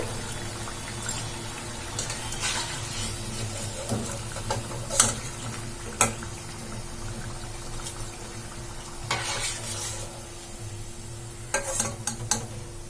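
Urad-dal-free instant vadas sizzle and crackle in hot oil as they are lifted out, with a steady frying hiss, soft scraping stir sounds and a few sharp clinks of a ladle against the pan.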